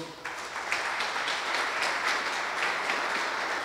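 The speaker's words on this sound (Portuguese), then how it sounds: "Aplauda o Senhor." A church congregation applauds during a sermon, steady clapping from many hands filling the room for several seconds, moderately loud and even.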